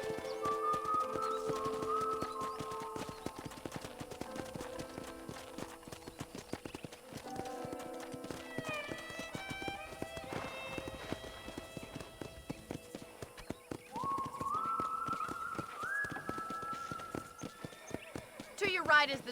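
In the video game Red Dead Redemption on Switch, steady clip-clop of horse hooves at a walking pace on a ranch throughout, with a horse whinnying and people talking over it.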